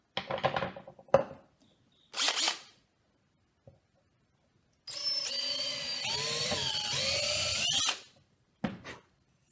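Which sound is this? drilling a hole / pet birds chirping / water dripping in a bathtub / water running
drilling a hole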